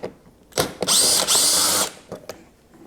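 A power drill takes out a torx screw on a Ski-Doo Gen 5 snowmobile, giving a short whirring burst of about one second with brief clicks before and after.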